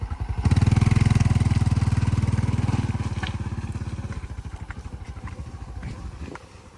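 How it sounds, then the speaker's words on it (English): A motorcycle engine with a cracked exhaust that has a small pinhole runs close by with a loud, rapid pulsing putter, then tapers off over several seconds. "The sound of our motorcycle, guys, is a little bit different because there's a crack."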